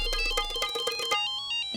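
A mobile phone ringtone chimes in a quick, bright repeating pattern for about a second, then its last tones fade out; no one speaks over it.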